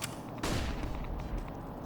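Flashbang grenades burst in a Counter-Strike match on the Train map: one loud broadband pop, then a lingering rumble and low background noise that fades under the dull tail of the blast.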